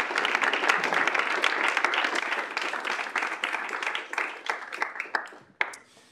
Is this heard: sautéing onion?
no